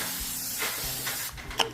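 Cooking spray misted into a pan, several short soft hissing bursts close by, with no voices.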